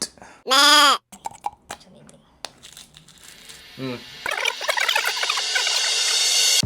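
Person imitating a goat's bleat, a short loud wavering call near the start, followed by crinkling, handling noises and quiet talk, then a busier rustling bed toward the end.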